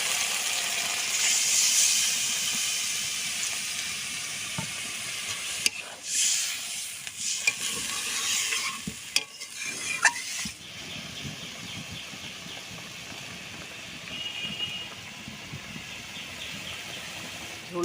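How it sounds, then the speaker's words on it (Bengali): Curry broth boiling in a pan in a village kitchen, a steady hiss and bubbling simmer with occasional scraping stirs and clinks of a utensil, fairly quiet and close, without talk. "ঝোলটা তো ফুটে গেছে।"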